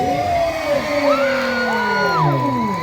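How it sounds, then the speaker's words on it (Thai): A large crowd at a school sports day cheers and whoops around the stadium, loud and continuous, with shouts and rising and falling voices over a steady roar. "ขอเสียงคนดูทุกคนรอบสนามเลย"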